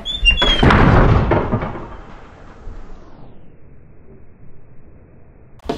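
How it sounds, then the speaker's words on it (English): A door swings shut with a loud, close thud and rattle, followed by a fading ring and quiet room tone. "you just gotta close the door like that"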